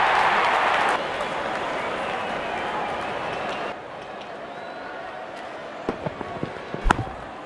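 A large cricket stadium crowd at a Men's T20 World Cup match between India and the USA cheers steadily as the openers walk out. The roar is a dense, continuous wash that eases slightly midway, with a few sharper claps near the end.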